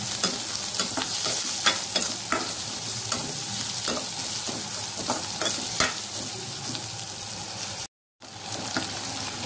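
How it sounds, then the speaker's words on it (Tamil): Steady sizzling in a pan as onions sauté, with frequent stirring clicks and scrapes of a spatula, close and fairly loud, briefly cutting out near the end. "இப்போ வெங்காயம் கொஞ்சம் நல்லா வதங்கிருச்சு"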